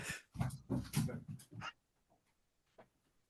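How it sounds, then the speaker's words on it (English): A small pet dog whimpers and yips indoors, a few short whines that trail off into near silence, close to the microphone and fairly quiet. "Apparently, the dog doesn't like that I'm busy not paying attention to him."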